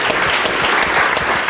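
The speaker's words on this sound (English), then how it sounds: "So let's give them another round of applause." Audience applause at the close of a hands-on session with a live model, dense continuous clapping from a crowd filling the room at steady volume.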